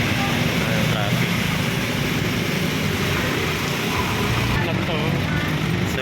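Road traffic in heavy rain in Landayan, San Pedro, Laguna, a constant loud wash of rain hiss and vehicle rumble with no pauses.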